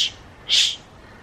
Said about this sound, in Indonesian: Di sini tuh banyak burung,